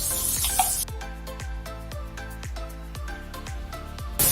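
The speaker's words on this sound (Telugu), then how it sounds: "ఉల్లిపాయల ముక్కలు వేసేసాను. పచ్చిమిరపకాయలు కూడా వేసేస్తున్నాను." Chopped onions and green chillies frying in a ladle of oil, a soft sizzle under a run of regular sharp clicks, like a ladle knocking against the pan as it stirs.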